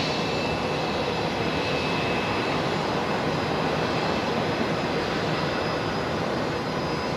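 An airplane arriving on runway 01 right at Brisbane Airport at night, heard as a steady, dense engine roar that stays broad and unbroken throughout, fairly loud and distant-sounding, with no talk.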